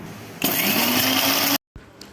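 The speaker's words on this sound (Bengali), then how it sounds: "আবার একই রকম করে চিনিটাও পিষে নেবেন।" A kitchen blender grinds sugar for a roasted-mango sharbat, starting abruptly with a loud, steady whirring roar that runs about a second before cutting off sharply into silence.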